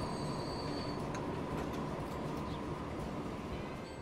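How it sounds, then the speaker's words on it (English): A train rolls along the rails in Transport Fever 2, a dense continuous rumble of wheels with faint clicks and a thin high squeal over it, steady and close with no talking. "Maybe that train is bringing some goods for us."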